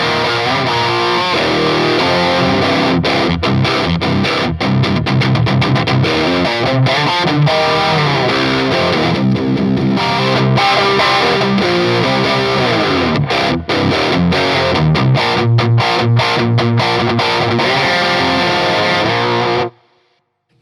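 Electric guitar played through an old Marshall amp with the gain up, a loud, distorted stream of riffs and chords with shifting midrange tone, continuous for about twenty seconds before stopping abruptly.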